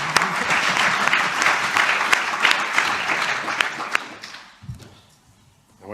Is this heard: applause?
yes